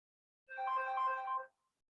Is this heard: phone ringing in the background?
yes